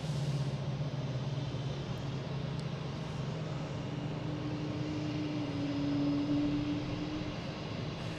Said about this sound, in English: another American Airlines from LaGuardia, landing on 4 left